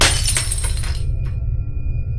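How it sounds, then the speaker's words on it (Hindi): A glass falls from a table indoors and shatters in one loud, bright crash, followed by a brief tinkle of fragments and then a settling hum. "टेबल पर रखा ग्लास न जाने कैसे गिरकर टूट गया।"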